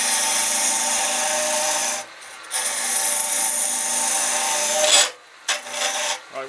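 A woodturning hollowing tool with a Crown Revolution Super Ring cuts into spinning wood, giving a loud continuous rasping scrape that breaks off twice briefly before resuming, with no talking.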